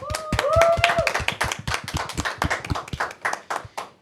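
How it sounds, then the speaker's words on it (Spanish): Audience applause for José Pablo at a Christian gathering, a dense burst of hand clapping that starts loud, then thins into scattered claps with a brief whistle early on. "Despedimos a José Pablo con un fuerte aplauso"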